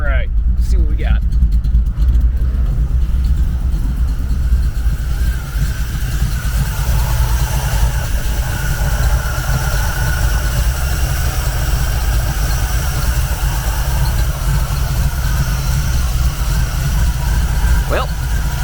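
A 1959 Chevy Tri Power engine idles slightly rough with a low, continuous rumble, running steadily and close by for the whole stretch.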